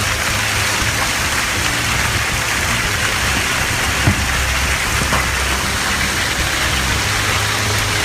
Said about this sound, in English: Severe weather impacting the Rio Grande Valley on Thursday produced heavy rain and hail in some areas